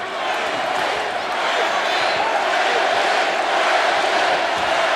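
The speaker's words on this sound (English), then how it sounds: "Once again, great crowd here in Columbus, Ohio" Arena crowd at a fight event in Columbus, Ohio, a loud, continuous roar of many voices swelling slightly throughout, close and unbroken, with no clear single speaker.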